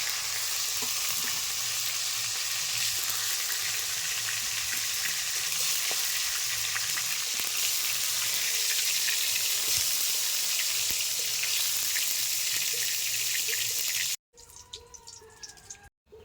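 Steady, loud sizzling of tomato fritters frying in hot oil, continuous and close, ending in a brief burst of clatter.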